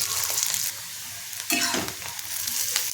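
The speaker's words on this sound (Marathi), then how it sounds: "उभं चिरून घेतलेले दोन मोठे कांदे टाकायचे आणि कांद्याला सोनेरी रंग येईपर्यंत आपल्याला ते परतून घ्यायचे" Sliced onions, garlic and chilli sizzle and fry in a pan as a spoon stirs and scrapes them, a bright continuous hiss broken by a louder scrape midway.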